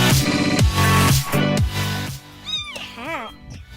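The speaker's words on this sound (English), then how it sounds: "Cat." A cat meows twice, close and clear, near the end of the clip. Before that comes a louder stretch of rhythmic, bouncy sound.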